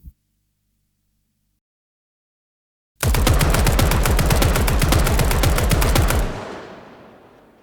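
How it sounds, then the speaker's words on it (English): Rapid-fire game gunshots at 500 rounds per minute, a dense, loud burst of evenly spaced shots lasting about three seconds after a short silence, then a reverberant tail fading away. "Let's hear how the gunshots would sound if fired at a rate of 500 rounds per minute for 3 seconds."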